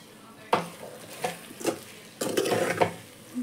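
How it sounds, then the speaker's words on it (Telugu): Chili powder is stirred into a tamarind curry of Shyama tumpala pulusu, with a few spoon scrapes and clinks against the pot over a faint low sizzle, one longer stirring stretch near the end. "కారం వేసి బాగా కలుపుకోవాలి"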